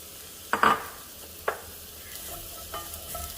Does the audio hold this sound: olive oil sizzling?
yes